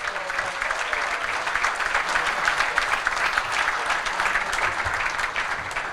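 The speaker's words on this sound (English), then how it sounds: "give Sir Alex a round of applause as well" Audience applause at a football-related evening event honouring Sir Alex Ferguson, sustained steady clapping from a large crowd for the full duration, dense and fairly loud with no talk over it.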